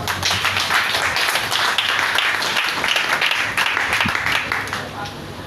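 A church congregation at a French-language service applauds the Lord with dense, sustained clapping for about five seconds, loud and close, with voices mixed into the applause.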